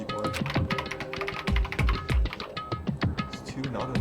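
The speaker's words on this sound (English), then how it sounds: "Yoko's fingers glided across the keyboard." Rapid typing on a computer keyboard in the video game Danganronpa: Trigger Happy Havoc, a dense run of close, crisp key taps with a few heavier thunks, no talk over it.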